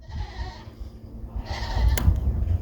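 A goat bleats in a barnyard setting, with two short nasal calls separated by a brief pause, the second louder and closer, over low rumbling background noise.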